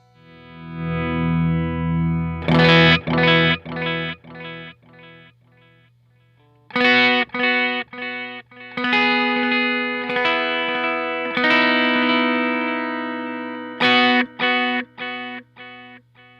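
Electric guitar through a Strymon El Capistan tape echo pedal plays chords and picked notes with a distorted, echoing tone, repeats trailing behind each phrase, with a steady low hum underneath.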